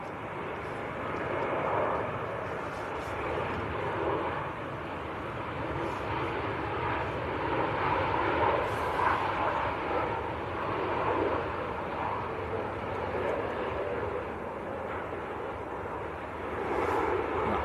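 A Ryanair Boeing 737 from Berlin at Manchester Airport produces a steady, moderately distant engine roar that holds for the whole stretch with slight swells, amid outdoor wind and no clear talk.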